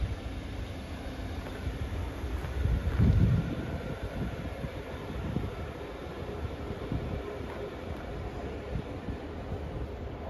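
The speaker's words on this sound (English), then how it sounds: "departing out now is the delayed 1615 Transport for Wales service from Barry Island to Aberdare" A delayed Transport for Wales service departs Cardiff Queen Street station: a steady, broad rumble of a passing train with wind buffeting the microphone, swelling briefly near the start and then holding at a constant level.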